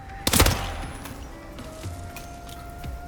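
Gunfire from an SMG in the video game Hitman Freelancer: a short, loud burst of rapid shots near the start, then quieter game ambience with faint scattered sounds.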